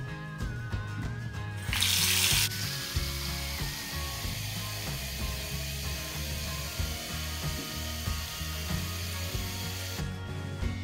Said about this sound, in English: So first I'm going to fill the tap up with warm water.